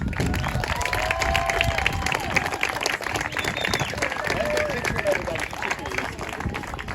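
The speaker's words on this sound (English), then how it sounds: "let's give one more applause for our senior season football players" A crowd applauds senior football players at a high school senior night ceremony, with sustained clapping and cheering outdoors while an announcer's voice carries over the noise and whistles and shouts rise through it.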